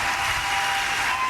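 Audience applause at an NBC News Republican presidential debate, a brief steady wash of clapping from a crowd.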